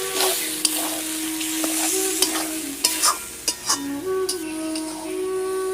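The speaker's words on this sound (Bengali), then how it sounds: "অল্প একটু জল দেব, দিয়ে আমি এটা মশলাটা ভালো করে কষিয়ে নেব।" Spice masala for chili chicken fries with a little water in a pan, a steady close sizzle punctuated by a few sharp scraping strokes of a spatula.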